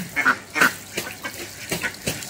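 Several ducks quack at a homestay in Shantiniketan, a group of bright, nasal calls in short bursts overlapping one another, fairly close and moderately loud, with no one talking over them.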